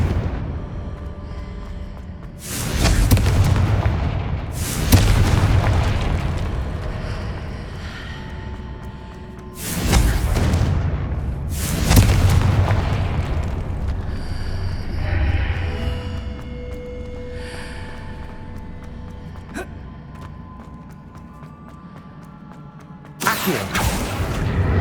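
Confringo fire spells from Hogwarts Legacy burst in a series of about five loud, booming explosions, each sharp blast fading into a rumbling tail, spaced irregularly across the stretch.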